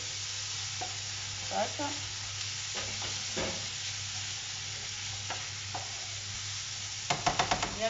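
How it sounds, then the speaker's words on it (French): Potatoes and onions frying in a pan, a steady hissing sizzle throughout with soft stirring scrapes, and a short flurry of clatter near the end. "griller un peu le tout, bien faire cuire les pommes de terre, n'importe quoi, les oignons"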